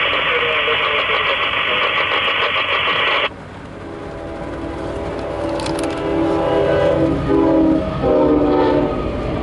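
CSX loaded rock freight train heading eastbound sounds a loud, sustained horn that cuts off abruptly, followed by the continuous rumble and clatter of the cars rolling past nearby.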